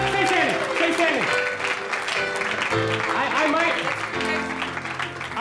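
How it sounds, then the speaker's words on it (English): Crowd at a Chicago magic lounge show applauds and cheers, steady clapping mixed with voices calling out loudly over it. "Give a huge round of applause."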